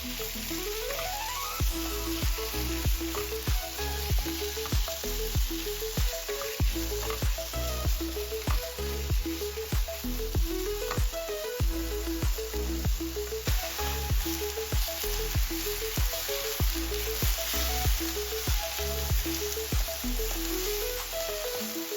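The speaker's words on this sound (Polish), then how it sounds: "Dodaję na patelnię filet z kurczaka, podsmażam, aż lekko się zrumieni." Chicken fillet sizzles steadily in a hot pan, a constant crackling hiss with occasional scraping and stirring sounds, close and continuous.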